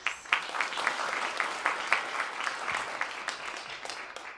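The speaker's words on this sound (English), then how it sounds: "Let's give another round of applause to all of our award winners." An audience at a literary magazine release party claps for the award winners, a warm round of applause with individual sharp claps standing out, swelling early and tapering gently toward the end.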